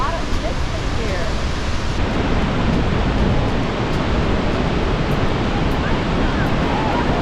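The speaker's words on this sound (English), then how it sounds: "It's just raining here from the waterfall" Heavy spray and roaring rush of water at Victoria Falls in Zimbabwe, a loud, steady wash of noise like falling rain and wind, continuous throughout with some wind buffeting on the microphone.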